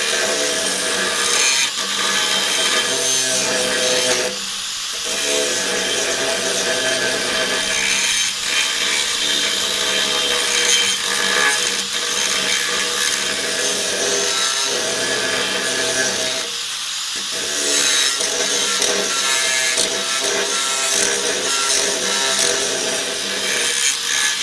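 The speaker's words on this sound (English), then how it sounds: "I've taken my grinder and ground out that" Grinder grinding metal during repairs on a 1959 Chevy Viking 60 truck, a loud continuous harsh abrasive roar with brief dips in pressure, close and steady throughout, no talking.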